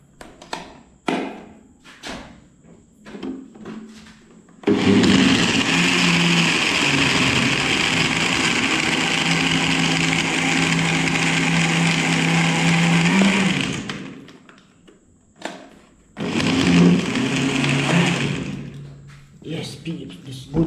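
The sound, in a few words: blender blending juice with ice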